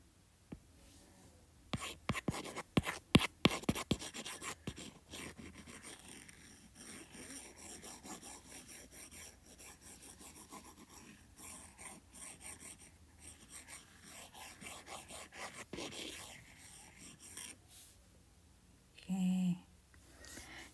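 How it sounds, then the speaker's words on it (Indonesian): Rubbing and scraping strokes of an eraser wiping writing off a board, faint and close, in quick bursts with pauses and soft handling noises between. "Sebentar, saya hapus dulu."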